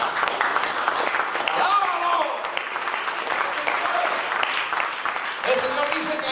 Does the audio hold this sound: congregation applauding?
yes